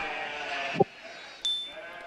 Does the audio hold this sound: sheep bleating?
yes